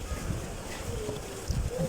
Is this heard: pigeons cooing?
yes